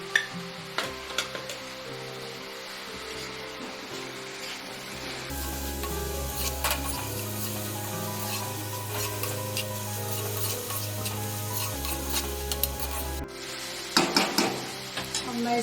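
Chopped onions sizzling in a hot pan while a spoon scrapes and stirs them in steady, rasping strokes, close and fairly loud, with a low hum running through the middle.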